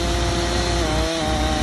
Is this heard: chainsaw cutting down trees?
yes